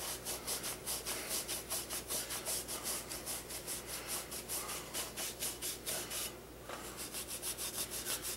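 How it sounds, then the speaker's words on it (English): A Scotch-Brite pad scrubbing a Chevy 400 engine block, a rhythmic back-and-forth rubbing with regular strokes, close and steady, with a brief break partway through and no voices. "what I do is I use a Scotch-Brite pad"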